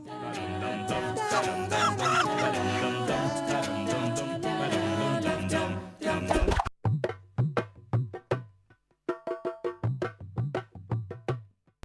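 A hen in a forest clucks in a quick series of short, close, sharp calls once background music cuts off, the bursts coming in uneven clusters.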